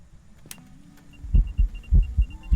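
A heartbeat in the horror game Phasmophobia thumps during a ghost hunt, a few deep paired beats rising out of a low hum, loud and close.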